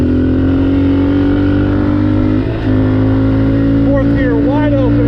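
A motocross dirt bike engine screams at full throttle in fourth gear on a homemade track beside a freeway, a loud, close, sustained drone with a brief dip before climbing again, and a voice speaks over the engine.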